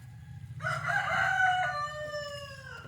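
A country rooster crows once, loud and close, a long drawn-out call that starts strong and trails off slowly, while low background clucking and farmyard noise continue underneath.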